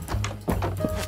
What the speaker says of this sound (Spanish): Madre mía, tío, qué pedazo caballo